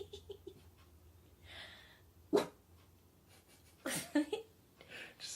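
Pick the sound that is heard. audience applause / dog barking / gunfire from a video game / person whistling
dog barking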